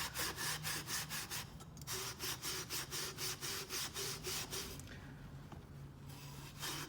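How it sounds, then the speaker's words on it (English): Rhythmic scrubbing strokes on aluminum intercooler piping being cleaned before TIG welding, a quick steady back-and-forth rasp repeated many times, pausing briefly and then resuming, close and fairly loud. "And just give it a good scrubbing inside and out."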